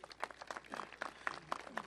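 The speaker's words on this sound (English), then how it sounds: "Give them a round of applause" A faint, distant crowd applauds outdoors at a ribbon cutting for a new waterfront promenade, a scattered patter of many hands.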